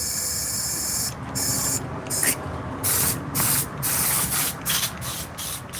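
An airbrush sprays paint onto leather with a close, steady hiss that pulses in repeated short bursts as the trigger is worked.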